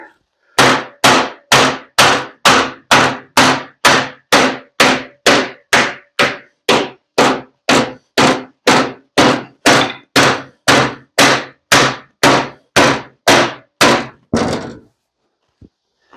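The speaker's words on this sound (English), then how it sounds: "May need to use that hard hammer before long. This soft one isn't going to make for a good edge, is it?" Soft hammer beating sheet metal, a freeway sign, over a large piece of C-channel in a home shop: about thirty loud, evenly spaced thuds in a steady fast rhythm, then a short pause and a couple of faint taps.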